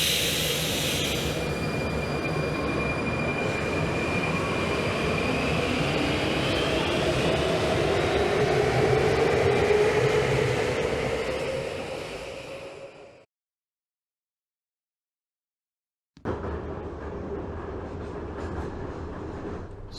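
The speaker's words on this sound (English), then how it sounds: "Let's finish getting this train running and discuss it later." A train rumbling along in the video game Ground Zero, a steady broadband roll with rising tonal whine that swells, cuts out abruptly for a few seconds of silence, then resumes at similar loudness.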